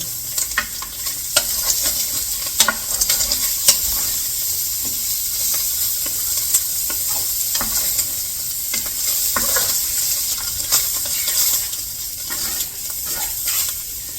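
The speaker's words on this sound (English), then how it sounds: "my sausage is starting to brown, so I'm going to flip them" Sausages sizzle and brown in a hot pan and are flipped partway. A loud, bright frying hiss fills the whole stretch, with scattered pops and the clatter of turning.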